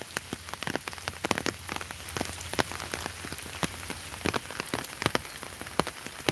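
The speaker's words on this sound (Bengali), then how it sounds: "হঠাৎ করে এখন প্রায় 10-15 মিনিট থেকে বৃষ্টি হচ্ছে" Steady rain falls over a riverside village on the bank of the Surma River in Sylhet, a dense close patter of drops on surfaces with scattered sharper individual drips throughout, and no voices.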